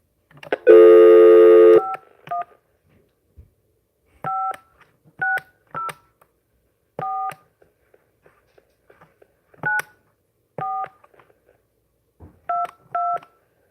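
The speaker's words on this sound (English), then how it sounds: "Let me dial in the number." A telephone number is keyed in as DTMF tones: a longer opening tone, then about a dozen short two-note beeps in irregular spacing, clear and close against silence.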